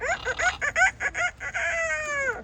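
A voice imitates a rooster crowing, a short burst of choppy clucking notes that rises into a drawn-out crow, close and clear with no other talk.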